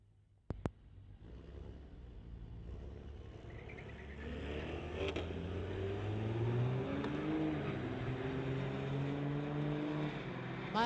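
A 2021 Corvette and a 2003 Dodge launch side by side at a drag strip street-legal event, engines revving hard and rising in pitch as they pull away, loud and sustained with no voices.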